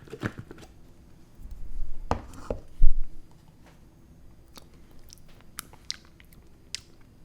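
Someone bites and chews a mouthful of vegan roasted red pepper pasta sauce with pasta, giving a few close, wet, soft bites early on, then quieter sporadic mouth clicks.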